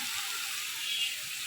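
Oil left over from frying fish poured onto chopped onion in a pan, producing a steady, hissing sizzle that stays even and close throughout, with no voices.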